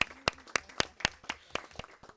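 Scattered hand clapping at a municipal council meeting, a sparse irregular run of about nine distinct claps over two seconds, close and fairly quiet, with no one talking.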